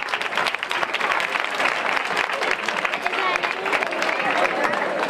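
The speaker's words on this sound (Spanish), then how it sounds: "Un aplauso para ella." A crowd applauds steadily at a surprise village tribute in Villa del Río, Córdoba, the dense clapping loud and continuous throughout with some babble mixed in.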